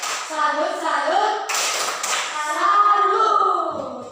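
A primary classroom claps out a rhythmic "tepuk salut" cheer, with children's chanting voices mixed in throughout and one louder burst midway.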